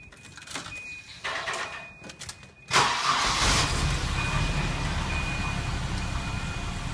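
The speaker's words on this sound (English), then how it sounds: "we're going to fire the car up real quick and see how she idles" A hot rod with a newly installed throttle position sensor cranks over and catches after a few quiet seconds, then settles into a steady, loud, smooth idle, slightly cold, running continuously close by.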